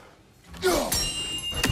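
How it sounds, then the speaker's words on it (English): A thrown axe strikes chimes in the video game God of War Ragnarok: a dull thunk followed by a bright, ringing metallic tone that lingers, then a second sharp impact near the end. "Simply throw your axe and strike the chimes, and I will attend to your needs."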